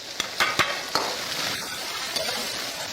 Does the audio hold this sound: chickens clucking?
no